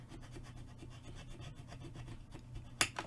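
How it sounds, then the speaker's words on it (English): Cardstock edge is burnished with a dry, quiet rubbing and scraping, steady for about three seconds and ending in one sharper scrape. "burnish that edge so you can peel it off"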